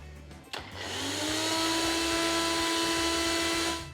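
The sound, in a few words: blender blending ginger and dark soy sauce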